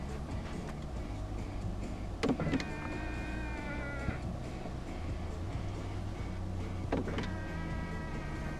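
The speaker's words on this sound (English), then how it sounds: "this car does have power folding mirrors" Power folding mirrors on a 2015 Volvo XC60 R-Design whir as their small electric motors run, two short mechanical hums a few seconds apart with faint clicks, close and quiet over low cabin ambience.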